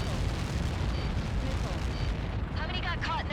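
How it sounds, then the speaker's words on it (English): A massive explosion in the Ace Combat 7 combat flight game rumbles loud and continuous, with deep low boom and debris roar throughout, while voices talk over it. "How many got caught in that explosion?"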